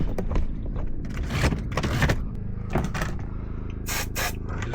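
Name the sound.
spraying lubricant on caravan locks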